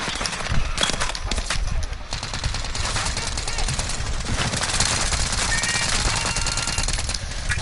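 Dense, continuous automatic gunfire from a close weapon in the shooter game Warzone, fast rattling shots layered with nearby battle noise.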